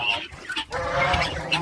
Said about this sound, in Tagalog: Ewan ko anong tawag dyan sa manok.